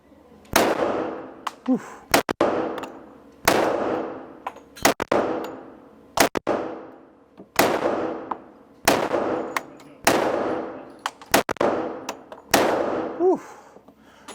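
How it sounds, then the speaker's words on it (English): A new Glock pistol fires at a target range at 5 yards, sharp loud reports spaced about every one to two seconds, each with a short ringing decay; one person exhales between shots. "I'm gonna aim at the top left target, 10 shots at 5 yards, here we go."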